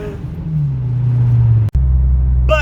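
A car engine revs loudly up close, a low steady drone that climbs slightly in pitch, cuts off briefly, then resumes, with a short sharp burst at the very end.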